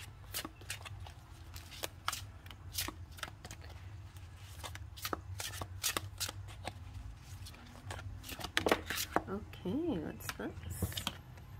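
Fairy tarot cards being shuffled in a quiet room, a run of soft papery riffles and light flicks with brief pauses, faint and close, with no talk over them.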